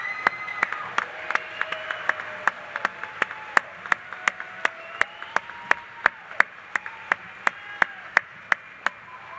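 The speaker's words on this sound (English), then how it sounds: "Give them a round of applause" Graduates are applauded at a Northwest Missouri State University spring commencement ceremony: sharp, evenly spaced claps ring out close by, steady and prominent over a soft crowd wash and a faint sustained tone.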